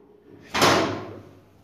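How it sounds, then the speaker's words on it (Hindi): A door or window swings open indoors, a single loud whooshing rush that swells quickly and fades over about a second, followed by a small click near the end. "सॉरी, आपको खिड़की का आवाज आएगा। दरवाजा भी खोल रहा है,"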